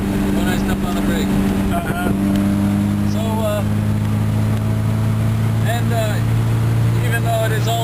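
A 1300 Ford Mk I Escort engine idles nearby with a steady, loud low rumble throughout, while someone talks over it.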